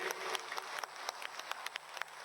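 Applause from an audience welcoming the chief minister at a guest house inauguration in Lucknow: steady, faint crowd clapping with scattered sharper claps throughout.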